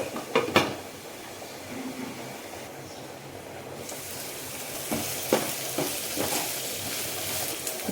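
Fenugreek leaves and soaked chana dal in a covered pan on the stove, a soft steady sizzle with a few sharp clinks of the lid and utensils near the start and middle.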